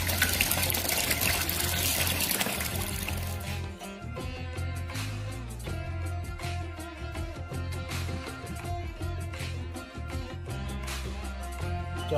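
Rice being washed in a bowl of water for boiling, with continuous sloshing and gushing water, running loud and steady, with faint tonal background behind it.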